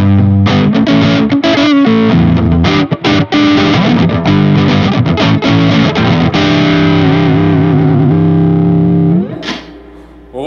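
Electric guitar played through an overdrive pedal, loud sustained crunchy chords and riffs with sharp note changes, ringing out and decaying near the end.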